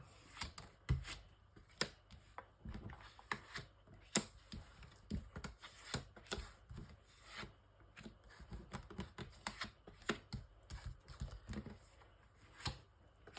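Tarot cards being shuffled and handled for a nine-card spread, a string of soft, close riffles and slaps in irregular bursts, faint and unaccompanied by talk.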